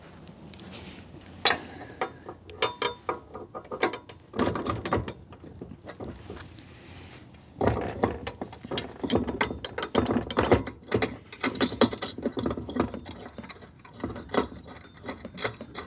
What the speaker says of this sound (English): And you just ratchet it into place.